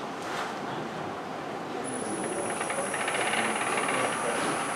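A wood lathe spins as a 3/8 spindle gouge squares the end of a chucked workpiece, giving a steady, fairly close rushing hiss of cutting with a faint high whine continuing throughout.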